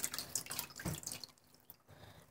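A puppet is dunked in water, giving close splashy sloshing and drips, busy at first and then thinning to a few soft trickles, with no talking.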